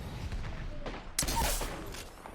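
Shotgun fire in the Apex Legends video game, a couple of sharp blasts, one near the start and a louder one just past a second, over low rumbling game noise.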